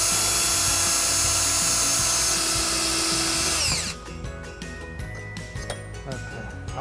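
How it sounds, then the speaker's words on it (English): A power drill bores holes into the bottom of a 2009 Jeep Liberty bumper, whining loudly and steadily before winding down, followed by quieter clicks and handling sounds. "just drill a couple of holes in the bottom of the bumper"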